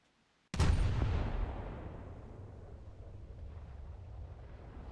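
A naval gun in War Thunder fires once with a sudden, heavy boom, followed by a long rumbling decay and wind-like roar that lingers for several seconds.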